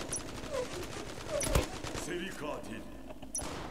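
Automatic weapon fire rattles in bursts during a Zula first-person shooter match, fairly faint and sitting under the general game sound, with one sharper, louder crack in the middle.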